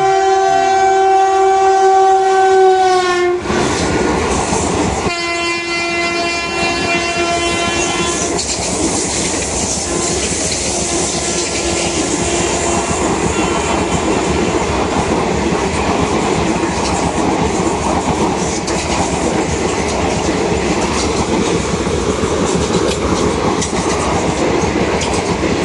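A train passes through a railway station on the Wanaparthy to Bangalore route. A loud, sustained horn opens, then the roar and steady clickety-clack of wagons continue close and unbroken for the rest of the clip.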